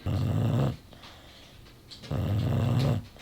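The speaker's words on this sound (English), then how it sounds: "dog sitting Mo, who is wide awake right now and still snoring" Mo the dog snores in two deep, rasping bursts, each about two-thirds of a second long, with a quiet pause between them. The dog is close and loud, with no talking.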